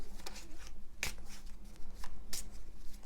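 Tarot cards are shuffled close by, quiet papery riffles and soft slaps with two sharper card snaps standing out in a short, uneven burst of handling.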